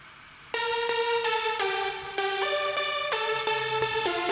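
Main layer of a progressive house synth lead, built in Logic Pro X, playing a bright sustained melody of held chords that shift every half second or so, loud and alone after a brief quiet start.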